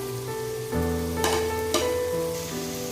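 Keema being stirred in a hot pan after green chillies and coriander go in, with a steady close sizzle and frying hiss and a couple of brief scraping stirs partway through.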